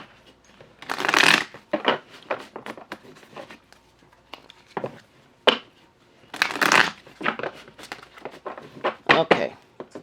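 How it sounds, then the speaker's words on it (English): A deck of tarot cards is shuffled by hand in close, crisp bursts of riffling and flicking, two long riffles separated by shorter taps and slides, with a quiet voice speaking in places. "I'm going to shuffle this again."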